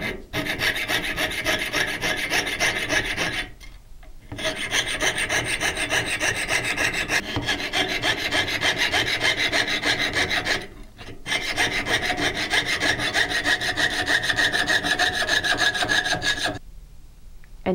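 A jeweler's saw cuts through a sheet-metal shape by hand, with steady rasping strokes that pause briefly twice and then stop near the end, close and alone.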